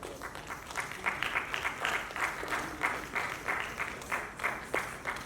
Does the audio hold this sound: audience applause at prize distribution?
yes